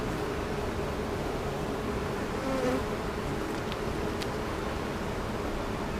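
A steady, dense insect buzz of many honeybees humming together around swarm cells, continuous and close throughout, with no voices.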